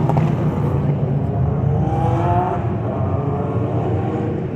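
Engines rumble and rev steadily in a downtown street, a continuous loud motor drone with a rising whine midway, close by and without talk.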